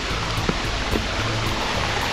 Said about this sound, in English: Here we come to another creek crossing.